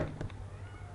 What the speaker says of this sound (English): Can you hear the cat whining?